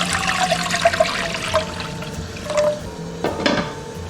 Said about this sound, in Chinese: 砂锅里倒入清水